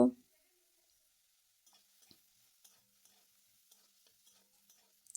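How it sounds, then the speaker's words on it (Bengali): Drumstick flowers being stir-fried in a pan with turmeric, heard as faint, sparse scrapes and light clicks of stirring, with a louder clatter at the very start and again at the end. "আরও কিছুক্ষণ নাড়াচাড়া করে নেব"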